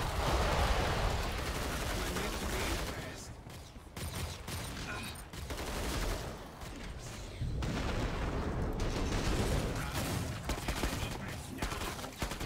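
Enemy gunfire in the shooter game Killing Floor 2, a dense, loud fusillade of rapid shots and booms that runs almost the whole way, briefly easing before returning, with a voice shouting in places.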